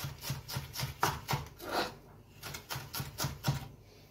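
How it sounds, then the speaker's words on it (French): Kitchen knife finely mincing an onion on a cutting board, a quick run of short crisp taps with brief pauses, close and alone. "Vous le ciselez comme ça."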